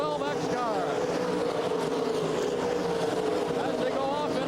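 Sprint cars at the 1983 World of Outlaws race in Oklahoma City roar around the dirt track, engines droning and rising and falling in pitch as they pass, under a race announcer's steady commentary.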